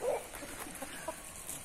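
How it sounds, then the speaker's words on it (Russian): A small, short-legged, bearded and muffed hen clucking softly a few times, faint and brief, over a light background hiss. "Хочу показать вам вот эту вот курочку, живущую в нашем хозяйстве."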